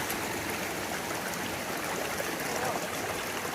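A mountain creek rushes steadily at a trail water crossing near Elkmont in the Smokies, with a close, continuous wash of flowing water and no voices.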